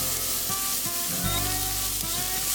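Shallots and garlic sauté in a hot pan with a steady, close sizzle that swells into a louder frying hiss midway, with faint stirring taps underneath and no talk.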